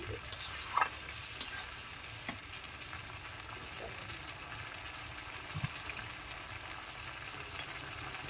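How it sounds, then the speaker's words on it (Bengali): Spices for red potato curry (aloo dum) being sautéed and stirred in a pan, a soft, steady sizzle with occasional louder scrapes and clinks of a spatula, one near burst at the start, no voices. "মশলাগুলো খুব ভালো করে কষে নিতে হবে।"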